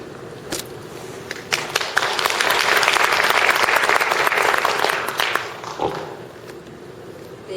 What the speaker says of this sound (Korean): 큰 박수로 환영해 주시면 좋겠습니다